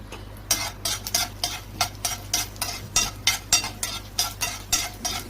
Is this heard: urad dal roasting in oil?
yes